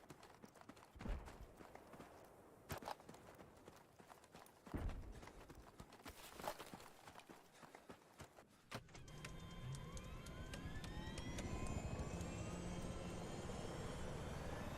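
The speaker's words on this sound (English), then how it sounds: "Look out, there's one of the hostile jet." A hostile jet roars through a Battlefield 3 match, its engine rising into a loud, sustained rushing whine that takes over after scattered gunfire and impacts.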